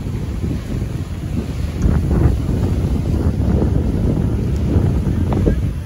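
Cold wind blows steadily outdoors near a bridge in Attock, Pakistan, with constant rumbling buffeting against the microphone for the whole stretch.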